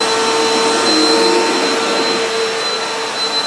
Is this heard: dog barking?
no